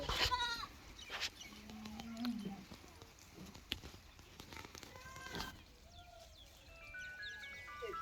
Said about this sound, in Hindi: और ये बकरियाँ हैं